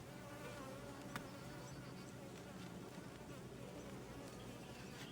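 Honey bees fanning around a hive box after a queen has been placed inside make a steady, close insect buzz that continues evenly throughout, with one short tap near the start and no talking.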